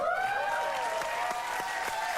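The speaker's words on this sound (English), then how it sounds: "Let's just applaud our credits now." A television studio audience at a late-night talk show applauds, with dense steady clapping and a few cheers near and loud throughout, while a sustained musical tone plays underneath.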